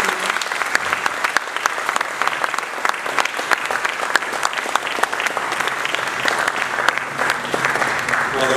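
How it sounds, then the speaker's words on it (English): Sustained applause from a Year 10 school prize-giving assembly audience, dense clapping with crisp individual claps standing out, even and fairly loud throughout without a break. "Could we please show a round of applause for the"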